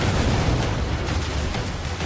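Ship cannon fire in the video game Assassin's Creed 4 Black Flag during a naval battle, a dense booming rumble of blasts sustained and loud across the whole moment, no voices.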